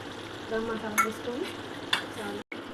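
Garam masala is stirred into mutton curry in a pot, giving a steady simmering sizzle with scraping spoon strokes and a few clinks against the pot, close by.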